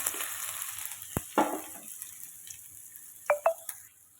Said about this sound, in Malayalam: ഇനി ഇതിലേക്ക് നമ്മുടെ ഉള്ളിയൊക്കെ ഇട്ട് കൊടുക്കാം